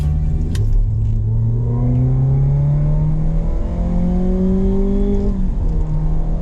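A Ferrari V8 with an aftermarket exhaust revs up through rising pitch and eases off, loud and close with a steady engine drone throughout and no talking.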